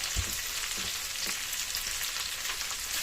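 Chopped onion hits a hot pan and fries for a chicken and zucchini dish, with a soft thump at the start followed by a steady, loud hissing sizzle and a few light stirring scrapes, close by.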